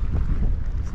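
Small boat engine running on the Panama Canal, a steady low rumble blended with wind buffeting the microphone, close and continuous without pause.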